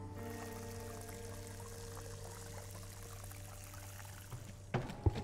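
Water pouring in the video game Crime Scene Cleaner, a steady continuous stream with a low constant hum, ending in a few short splashy clatters near the close.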